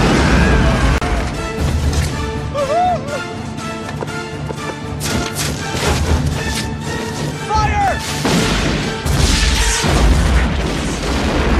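Dense, continuous game audio with repeated heavy booms and crashes of cannon fire during an ambush, layered with music and chaotic effects throughout.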